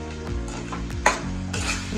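Tomatoes with red chili powder sizzle in a pan while a utensil stirs and scrapes, with a sharp clink of metal against the pan partway through.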